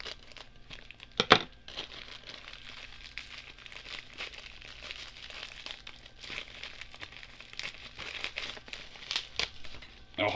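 A crinkly plastic bag rustles and crackles as it is cut open, close by, with one sharp snap near the start and continuous crinkling throughout.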